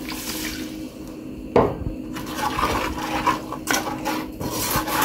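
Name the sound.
half cup of water poured into pan of frying spices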